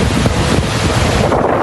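Strong wind roars across the Tuzla coastline as high waves batter a row of moored boats, a loud, unbroken rush of gusts and surf buffeting the microphone up close, with no voices.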